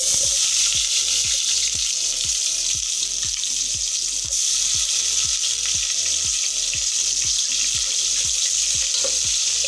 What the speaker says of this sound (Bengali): এখানে কিছুটা কুচানো পেঁয়াজ দিয়ে দিচ্ছি।